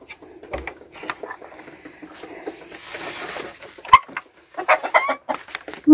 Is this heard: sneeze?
no